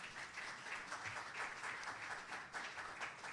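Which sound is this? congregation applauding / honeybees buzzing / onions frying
congregation applauding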